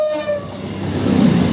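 Train horn sounding at Lichfield Trent Valley station on the West Coast Main Line, one loud sustained blast that fades as rumbling rail noise and wheel clatter build up, with no talking.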